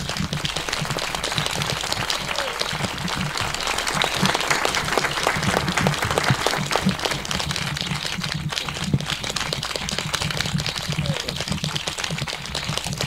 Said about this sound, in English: I hope that you're applauding for yourselves